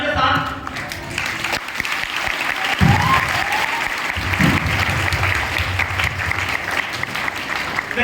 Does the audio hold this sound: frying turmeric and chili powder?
no